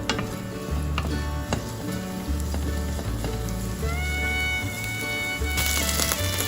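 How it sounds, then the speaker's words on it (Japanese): Garlic and doubanjiang stir-fry gently over low heat in sesame oil, a soft steady sizzle running beneath a repeating low background music track. "フライパンにごま油を熱し、弱火でニンニクと豆板醤を炒め"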